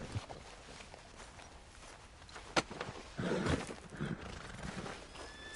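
Horse neighing with hoof clip-clops in Red Dead Redemption 2, a single sharp whinny-like burst standing out over a busy mix of game sounds, with rising activity and a louder stretch toward the end.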